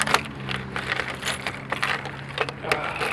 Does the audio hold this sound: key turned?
yes